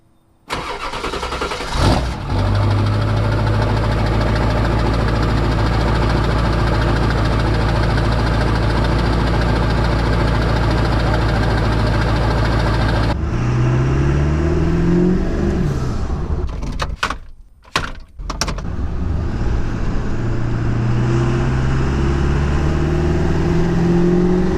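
A Chevrolet Tahoe truck engine cranks and starts, then settles into a steady, loud idle heard up close with no talking; partway through a few brief dropouts and thumps interrupt before the idle hum continues.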